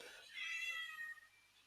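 A cat gives a single short, fairly quiet meow, alone and close by.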